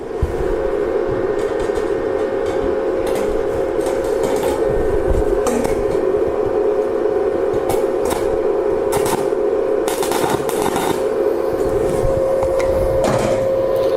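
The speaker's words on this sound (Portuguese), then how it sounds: "Vai dar um ponto de solda aqui também." Tack welding on a steel tube frame in a metalwork shop: a loud, steady electric buzz with crackling spatter runs unbroken through the whole stretch, with no voices.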